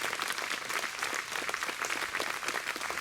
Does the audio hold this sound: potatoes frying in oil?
no